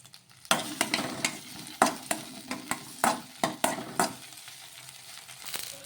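Green chilies fry in oil while being stirred, a series of roughly a dozen distinct scraping strokes and clinks against the pan over a low, steady sizzle, moderately close.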